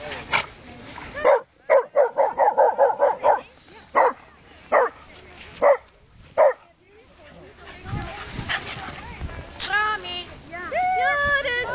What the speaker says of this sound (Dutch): Die grote hond aan